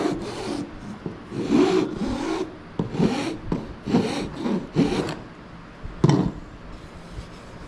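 A hand file rasps back and forth on a hand-carved wooden wand, shaping the handle in a series of about eight distinct scraping strokes, close and fairly loud.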